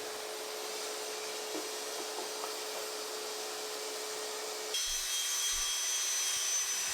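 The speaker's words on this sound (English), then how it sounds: "it's time to cut the dados in the top shelf. That's done with the router, of course." A router cuts dados into the top shelf of a wooden music studio desk, a steady high whine that holds throughout, then shifts pitch and grows slightly louder partway through as the bit bites into the wood.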